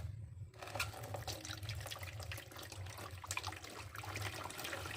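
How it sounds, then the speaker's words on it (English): Water poured into a red-eared slider turtle enclosure with sand and rocks, a faint steady splashing trickle running continuously for a few seconds over a low background hum. "pour some water there."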